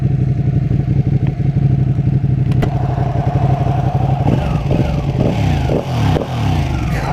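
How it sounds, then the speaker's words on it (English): A 2016 Ducati 959 Panigale sport motorcycle with stock exhaust rumbles loudly and steadily, with a rising rev and throttle blips toward the end, close by. "That's a stock exhaust."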